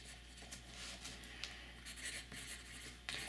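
A broad-nib fountain pen inked with Robert Oster Blue Ice Lake scratches across paper in faint, close strokes, soft airy scraping with small pauses over a low background hum.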